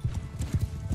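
Hooves of a galloping horse in the Mount & Blade II Bannerlord video game, a quick, rhythmic run of soft thuds over about a second, heard alone.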